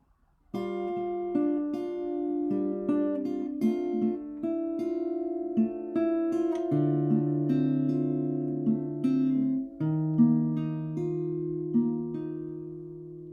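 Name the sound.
acoustic guitar chord progression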